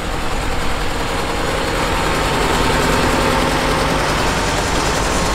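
A rare International Harvester 1468 tractor rolls by in a parade with a steady, rumbling engine drone, loud and close, holding an even note with no talk over it.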